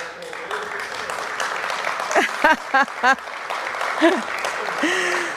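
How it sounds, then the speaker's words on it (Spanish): An audience at a gathering in New York claps in a dense, sustained wash, with a voice calling out intermittently over the applause. "¿Aquí no se puede aplaudir? Claro que sí."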